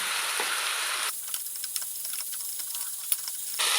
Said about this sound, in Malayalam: നമുക്ക് അരിഞ്ഞു വെച്ചേക്കുന്ന സവാളയും പച്ചമുളകും കൂടെ ഇടാം.